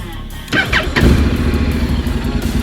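A Honda NC750X DCT motorcycle engine cranks and fires up after its ignition button is fixed, then settles into a loud, close, steady idle rumble.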